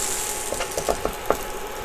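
A Wonderffle waffle iron holding sausage-stuffed waffles being flipped over, a few quick clicks and metallic clunks over a soft sizzle.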